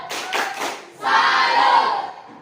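A group claps in a quick rhythmic salute pattern, then breaks into a loud shouted chant together. The clapping and chanting are close and energetic.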